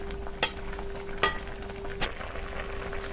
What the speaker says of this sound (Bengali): এর মধ্যে খুন্তি দিয়ে খুব জোরে আর ঘাঁটবো না, হালকা হালকা উপর দিয়ে এইভাবে